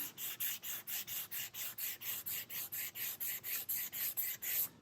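Sandpaper rubs back and forth on wood between coats of Minwax tung oil finish, about eighteen even, quiet strokes in a steady rhythm, close up.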